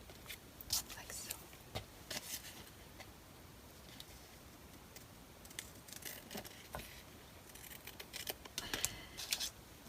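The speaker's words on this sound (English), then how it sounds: "Just get smaller scissors and cut" Small scissors cut around the edge of an altered playing card in a series of quiet, irregular snips and clicks close by, over a soft background hiss.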